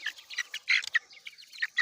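Roosters scuffle as they peck at each other, with quick, sharp clucks and squawky calls in irregular bursts, close and moderately loud, and no voices.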